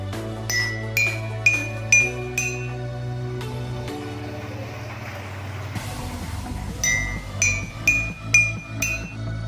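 Water-filled glasses struck one after another in a quick sequence, each ringing clink at a different pitch, a brief pause in the middle before another run.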